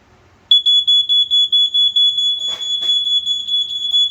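A smoke alarm sounds close and loud, a shrill tone breaking into rapid repeated beeps, with a couple of brief thumps midway; no talking.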